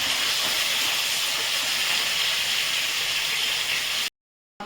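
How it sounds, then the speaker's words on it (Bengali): Chicken pieces fry with vegetables in a pan, giving a loud, steady, close sizzling hiss that runs unbroken, then cuts off abruptly near the end. "এবারে মাংসটা দিয়ে আমি আবার কিছুক্ষণ কষিয়ে নেব।"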